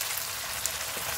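A brief, steady, hissing sizzle of tomatoes sautéing in a pan, close and even, with no talking.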